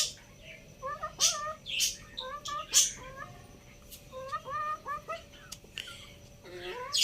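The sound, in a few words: hen calling before laying eggs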